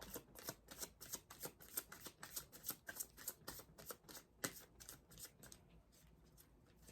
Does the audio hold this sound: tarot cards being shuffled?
yes